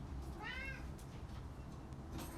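A cat lets out a single drawn-out meow near the start, moderately loud over a low steady indoor hum, followed by quiet room tone.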